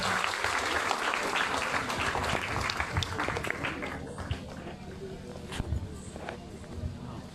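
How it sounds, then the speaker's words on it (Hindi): An audience claps steadily at a school sports meet closing ceremony as the principal is welcomed to the stage, a dense patter of applause that gradually thins, with a voice over a loudspeaker. "सभी को संबोधित करें और जोरदार तालियों से प्रधानाचार्य जी का स्वागत"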